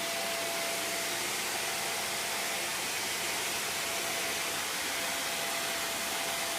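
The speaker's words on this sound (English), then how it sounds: "Are you doing the hoover?" A vacuum cleaner runs continuously, a loud steady airy roar with a faint constant whine, unbroken throughout with no talk over it.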